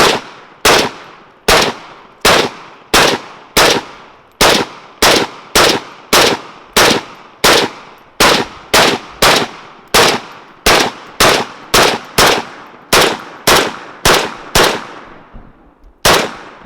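Zastava ZPAP M70 rifle fired in a rapid drill: around two dozen sharp, loud, close shots at a quick, fairly even pace, each with a short echoing tail.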